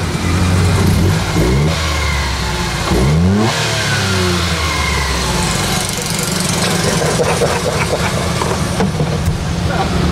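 A red van's engine revs as it accelerates, a rough mid-pitched motor surging and rising in pitch, with a sharp rev burst partway through, near and loud; people talk over it.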